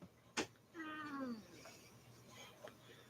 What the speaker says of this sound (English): That meowing is Patches